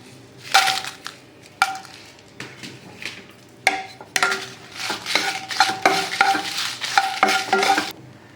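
Red chilies fry in a little oil in a pan, crackling as a spoon stirs and scrapes in sharp, repeated strokes over a light background sizzle, close and clear with no voices.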